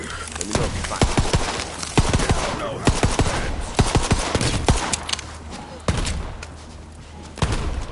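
Rapid bursts of gunfire in Borderlands 3 crack repeatedly, with sharp shots scattered throughout and voices and game sounds mixed in.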